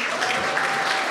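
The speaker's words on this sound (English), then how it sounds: "give a quick round of applause to Pastor David" A church congregation applauds for a pastor after a guest musician's service, a dense, steady wash of many hands clapping throughout, loud and without spoken words.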